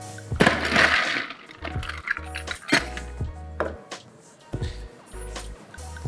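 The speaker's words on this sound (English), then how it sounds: "Now we're going to add ice and shake." Ice and lime juice rattled hard in a sealed cocktail shaker, a loud churning clatter of cubes against metal that rises, falls and continues in uneven pulses.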